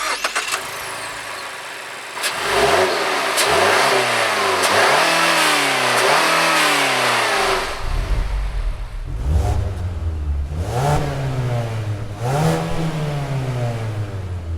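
A 2020 Mazda3 hatchback's 2.5-liter Skyactiv-G four-cylinder engine starts up, then revs repeatedly in rising and falling sweeps, heard up close and loud with no one speaking.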